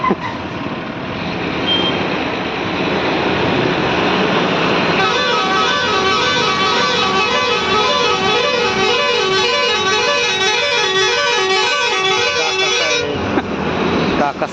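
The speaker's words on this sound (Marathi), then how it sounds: "काकासाहेब हॉर्न वाजवतात" Vehicle horns on a winding ghat road, a loud repeated tooting pattern blaring near and steady for several seconds over heavy engine rumble, with reversing-style beeps in the mix.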